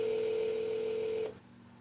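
A phone dialing tone sounds as one steady, clear electronic tone that holds for over a second, then cuts off, leaving faint background hum.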